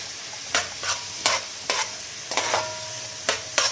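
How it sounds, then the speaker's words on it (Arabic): Onions sauté in a hot pan for chicken liver and gizzards, a soft steady sizzle broken by about eight sharp scraping stirs at irregular intervals, close and clear, no voices. "هنشوح بقى البصل دلوقتي اهو، هنسيبه لحد ما يتكرمل كده"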